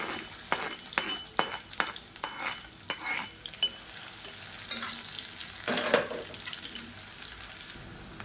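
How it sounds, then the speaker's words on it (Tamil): Long-sliced medium onions with curry leaves fry in hot oil for a chicken dish, a steady close sizzle broken by a run of sharp spoon-against-pan scrapes and clinks as they are stirred, with no talking. "வெங்காயம் நல்லா வதங்கிடுச்சு."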